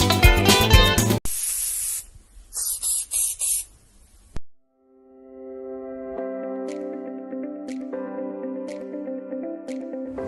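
A fumigation sprayer hisses in loud, broken bursts for a few seconds, then stops as music takes over.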